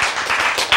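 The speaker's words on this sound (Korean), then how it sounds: "박수" A church congregation claps together, loud and close. The hands strike in a quick run of sharp beats with no one talking, and the clapping ends on a stronger final clap.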